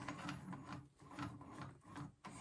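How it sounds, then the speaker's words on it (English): A quiet, close rasping scrape repeats in short strokes as burrs are filed off homemade threaded gland nuts for a wood stove heat exchanger, about a half-dozen rubbing passes with brief gaps. "Burr them off a bit."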